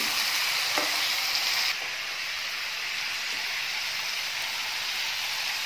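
Potatoes frying and being stirred in a pan for a chicken curry, giving a steady close sizzle with a louder scraping burst early on that settles into an even hiss.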